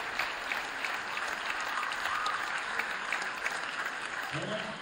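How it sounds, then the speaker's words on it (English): A school gym crowd applauds 7th grade boys basketball players with a steady, even wash of clapping that holds at a moderate level throughout, and cheering voices are mixed in. "Big round of applause for a huge group of 7th grade boys basketball players."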